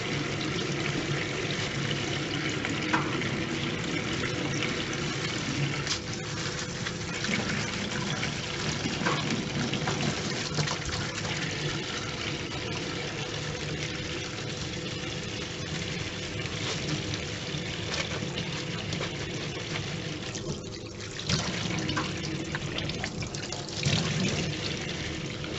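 Water runs steadily from a tap as hand-dyed cotton fabric is rinsed in a sink, a continuous gushing trickle close by that holds for the whole stretch with no talk.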